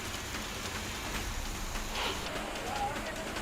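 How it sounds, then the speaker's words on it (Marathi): Heavy rain falls on the city of Sangli, a constant hissing patter on surfaces that holds steady and fairly soft throughout, mixed with faint background noise. "सांगली शहरासह जिल्ह्यात सलग 3ऱ्या दिवशी पावसानं जोरदार हजेरी लावली"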